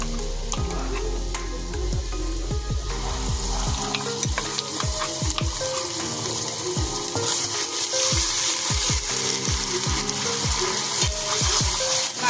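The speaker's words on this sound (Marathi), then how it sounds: "मसाले तेलामध्ये चांगले फ्राय करून घेऊया" Turmeric, Malvani masala and garam masala frying in oil: a steady sizzle with repeated stirring scrapes and light taps of a spoon against the pan, close and continuous.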